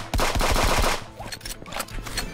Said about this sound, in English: Say hello to my little turret.